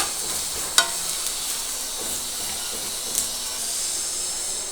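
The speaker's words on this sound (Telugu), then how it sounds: "ఇప్పుడు దీంట్లో కొంచెం జింజర్ గార్లిక్ పేస్ట్ యాడ్ చేసేసుకొని పచ్చి వాసన పోయేంత వరకు ఒక 2 మినిట్స్ ఫ్రై చేసేద్దాము." Ginger garlic paste fries with onions in a pan, making a soft, steady sizzle and hiss with a couple of light clinks from stirring.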